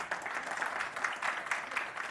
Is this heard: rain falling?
no